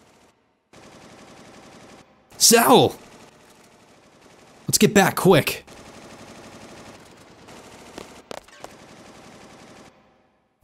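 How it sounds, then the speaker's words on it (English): Video game gunfire in Final Fantasy VIII: two loud bursts of rapid shots ring out in a D-District prison over a droning ambient hum, with a character's voice shouting briefly between. "What was that? Gunfire?"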